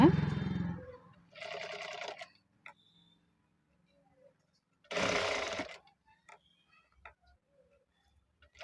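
A sewing machine runs a waste stitch along ready-made piping on a blouse in short separate bursts, a brief whir, another, then a longer run, with quiet ticks and a faint voice between.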